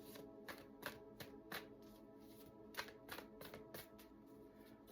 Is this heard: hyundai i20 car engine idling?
no